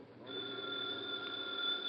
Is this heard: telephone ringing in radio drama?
yes